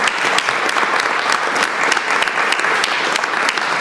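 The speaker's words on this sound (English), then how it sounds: "Can we give our presenters a round of applause," Loud, sustained applause from a board meeting audience for presenters, a dense even wash of many hands clapping that fills the whole stretch.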